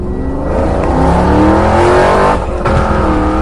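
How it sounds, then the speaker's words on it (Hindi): A motorbike in an animated horror story roars at full speed, its engine droning loud and steady with a rising whine and no talking over it. "बाबा अपनी बाइक को फुल स्पीड में भगाते हैं।"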